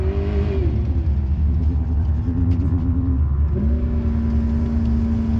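An off-road desert race car in the VORRA El Coyote 400 desert race drones loudly and close, its engine pitch dipping and rising again with gear changes and throttle, with almost no talk over it.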